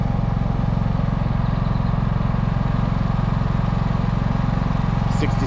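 A GENMAX GM10500iETC tri-fuel inverter generator runs with a steady, loud, even engine drone and a constant low hum throughout.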